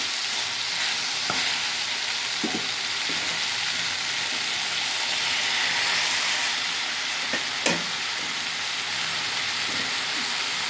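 Tomatoes frying in a pan for a cauliflower tomato curry give a steady, close sizzle like light rain. A few faint scrapes and clinks of stirring come through the frying noise.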